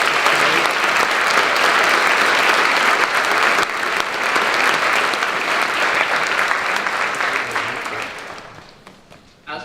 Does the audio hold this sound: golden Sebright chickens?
no